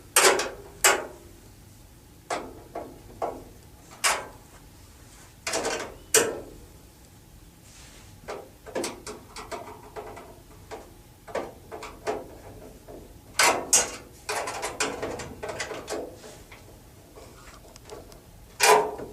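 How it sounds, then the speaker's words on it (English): Range hood mounting bolts tightened with a 3/8 inch wrench, giving a series of sharp metallic clicks and ratcheting knocks in irregular bursts, fairly close and alone without talk. "3/8 inch wrench on these, and we'll go ahead and tighten these now."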